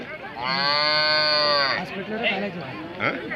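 A loud, drawn-out cow moo with rich harmonics lasting over a second at the Gandasi cattle market in Hassan district, followed by softer animal sounds and background noise.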